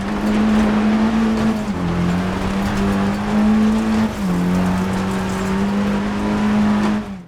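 A rally car engine in a rally racing game, loud and close with a steady droning pitch that drops sharply twice as it is downshifted gradually through the gears.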